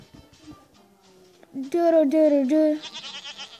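A goat running loose in a town bleats loudly and close in two or three strained, wavering cries. A few quieter sounds come first, and higher calls follow at the end.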